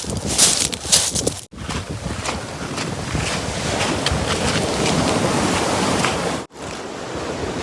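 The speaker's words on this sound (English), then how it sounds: "avoiding the waves, which are just behind me" Waves breaking on a beach along the English coast near Sheringham, a continuous loud surf wash with wind buffeting the microphone and two brief dropouts.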